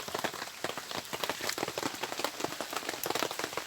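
Steady rain falls in a cold morning setting, a dense continuous patter of drops on surfaces close by, with no voices over it.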